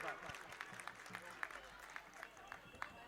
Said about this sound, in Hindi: जोरदार तालियां महानगर के लिए